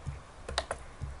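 A few quick computer keyboard keystrokes, clicking at close range in a short burst, with no talking.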